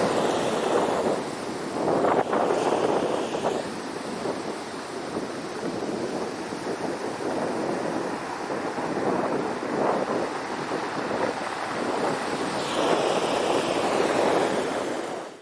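Surf washes continuously onto a pebble shore on a gloomy morning, steady and loud with a rushing, grinding texture as the waves drag stones back, wind buffeting throughout and no voices.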